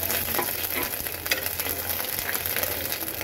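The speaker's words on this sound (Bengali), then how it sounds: "তো চলো আগে আদাটা একটু হালকা ভালোভাবে ভেজে নেই" Ginger frying in a pan for a ridge gourd shukto, giving a steady close sizzle with faint stirring scrapes throughout.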